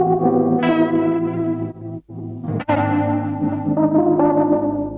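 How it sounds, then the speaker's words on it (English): Layered music tracks run through tape echo, tremolo and lo-fi processing, then summed on a tape machine with glitches, warbling chord tones and sustained notes broken by two brief dropouts, loud and continuous with no voices. "I put a tape echo, tremolo and mellow-fi on all of the individual tracks before summing them on my tape machine"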